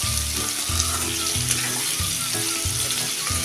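Pieces of red pumpkin sauté in oil in a pan, a continuous sizzle with regular stirring strokes roughly every half second, close and moderately loud, with no voices.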